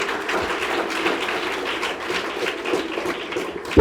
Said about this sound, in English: A round of applause again to Pumwani Child Survival.